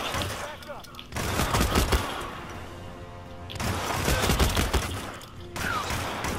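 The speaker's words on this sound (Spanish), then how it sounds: "me están disparando por atrás" Bursts of automatic gunfire from behind in a Hitman game, loud rattling volleys in two clusters separated by a brief lull, with a voice speaking over the action.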